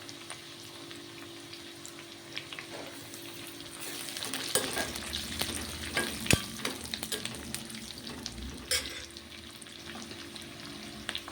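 Curry leaves and mustard seeds sizzle and crackle in hot oil in a frying pan, a continuous close hiss with sharp pops and spatters that swell as the leaves go in, with some stirring clatter.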